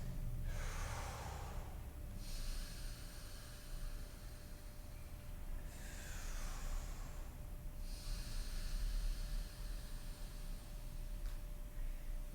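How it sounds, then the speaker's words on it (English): Slow, deep breaths during a low back stretch: three long, airy inhales and exhales spaced a few seconds apart, close and soft over a faint background hum. "3 breaths."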